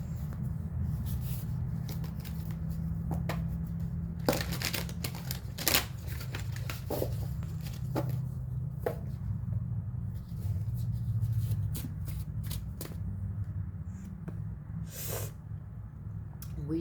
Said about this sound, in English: Now I want to shuffle again and see what comes out.